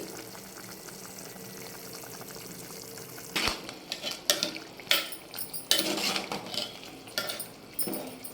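Brinjal chutney bubbles in a pan on high heat, first a faint simmer, then a spoon scrapes and stirs in a series of irregular clinks and scuffs.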